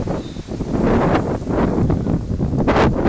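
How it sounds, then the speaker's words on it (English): Wind gusts across an outdoor football pitch during a match between Lutterworth and Coventry United, a steady broadband rush with buffeting swells throughout, close to the microphone and fairly loud, with no talk. "The wind is blowing."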